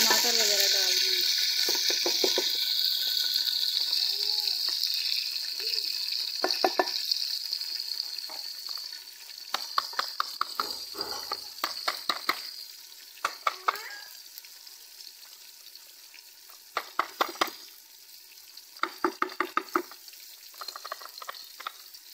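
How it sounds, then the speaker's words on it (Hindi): Onions, green chilies and tomatoes fry in ghee in a handi with a steady, close sizzle, broken by repeated scraping and clinking stirs that grow busier toward the end. "इसको हल्का सा भून लेंगे।"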